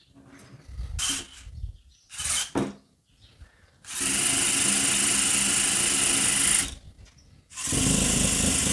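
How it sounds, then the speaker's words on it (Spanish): An electric drill whirs loudly and steadily in two long bursts, after a few short rustles and clunks at the start. "No sé si lo tirará el taladro, pero bueno, vamos a probar"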